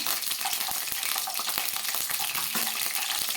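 Mustard seeds, fenugreek and dried red chillies fry in hot oil for a Tamil curry-leaf pickle, a steady close sizzle with scattered crackling pops and stirring scrapes, with no talk.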